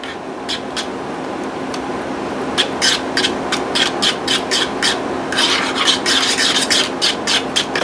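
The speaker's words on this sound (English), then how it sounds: "There we go, and I'm going to stir this up." A fork stirs chunky salsa in a bowl with repeated close scraping and wet rubbing strokes that quicken into a steady rhythm, with no one talking.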